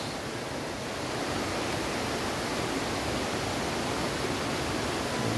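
Steady rushing water at a mountain waterfall called Twin Falls, a loud, even broadband roar with no breaks and no voices.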